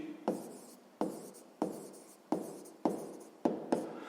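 Pen strokes on paper while a sixth-grade maths problem is written out, a series of seven quick scratching strokes at an even rhythm, close and clear with no talk.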